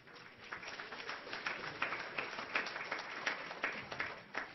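Audience applause during a lecture on disclosure and energy technology, a faint, steady patter of many hands clapping heard from a distance in a hall.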